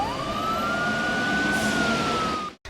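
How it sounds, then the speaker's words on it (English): A single wailing police siren holds a long rising tone over steady traffic noise, then cuts off abruptly at the end. "you could oftentimes hear the police sirens and, you know, the chaos"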